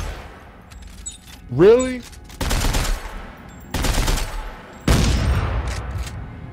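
Weapon fire in the sci-fi horror game Dead Space 3, three loud heavy bursts each ringing out and decaying, after a short rising whine, with people talking over it.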